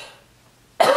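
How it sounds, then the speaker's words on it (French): A single sharp, close cough bursts out near the end after near silence. "Je vais tousser"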